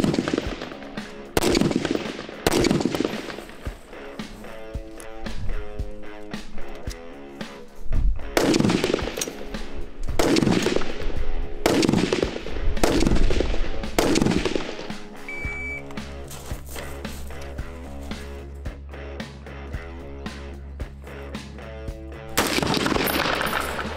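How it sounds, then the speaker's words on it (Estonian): Rapid volleys of gunfire at a shooting range during a shooting training exercise, loud repeated bursts of shots with short pauses, then a steadier stretch of sustained firing and a final burst. "Vabalt valitud järjekorras igast laske kohast, igasse sihtmärki kaks lasku."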